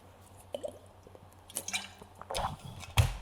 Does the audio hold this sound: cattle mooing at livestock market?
no